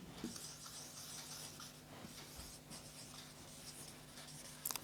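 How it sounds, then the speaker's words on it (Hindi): Marker or chalk writing on a board during a biology lesson, a steady faint scratching and rubbing of strokes with a couple of sharper taps at the end. "ये मैं लिख देता हूँ यहाँ पे"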